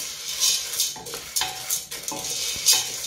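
Popcorn kernels are stirred in a dry pan, giving a steady close rattling scrape with repeated sweeps of the utensil, alone without voices.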